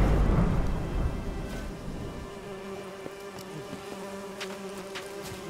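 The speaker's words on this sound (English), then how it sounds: "As more bees attack you," Swarming, attacking bees in the video game Witcher 3 drone in a steady insect buzz that follows a rumbling burst at the start, with sustained hum lines and occasional sharper game effects.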